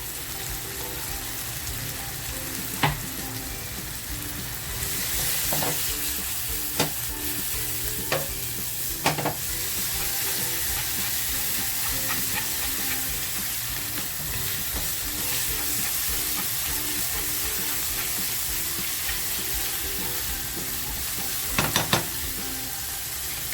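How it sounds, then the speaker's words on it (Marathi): Garlic sizzles steadily in a pan of reddened tomato while being stirred, for a homemade palak paneer dish; a soft, even frying hiss with occasional sharp scrape-like clicks of the spoon, and no talking. "आणि लसूण मी तेचून घेतली आहे ना ती टाकते आहे"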